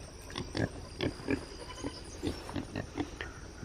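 Homestead pigs grunt in short, rhythmic snorts close by, a steady run of low grunts one after another with no talking.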